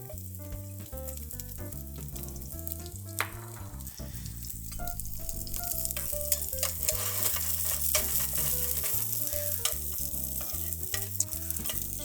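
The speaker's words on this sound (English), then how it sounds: "So David, what I try to do is let these guys sweat a little bit so they break down, right?" Sliced garlic and shallots sweat in olive oil in a warm pan, a soft continuous sizzle running beneath loud background music for the whole stretch.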